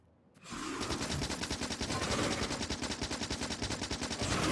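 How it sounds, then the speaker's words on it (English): A vehicle-mounted machine gun in the Factorio game fires a sustained rapid burst, loud and continuous with a fast even rhythm, starting abruptly after a brief quiet moment. "that has a mounted machine gun"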